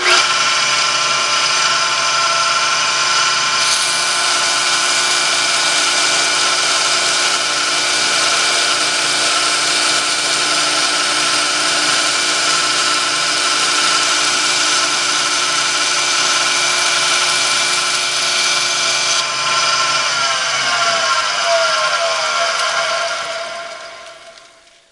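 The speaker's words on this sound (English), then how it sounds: "I'm going to turn the grinder on again." A knife blade held against a running belt grinder during knifemaking gives a loud, steady abrasive whine with strong tonal bands for about twenty seconds, then the grinder spins down and fades out at the end.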